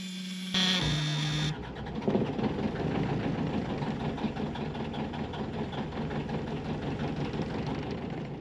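A sailboat's inboard engine turns over and starts after a brief warning buzzer. It then settles into a steady, close, rumbling idle with a rhythmic knocking chug that runs on evenly.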